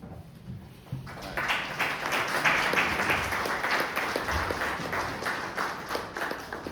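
An audience at a poetry reading breaks into applause after a poem. A quiet moment gives way to sudden, sustained clapping from many hands that holds steady for several seconds.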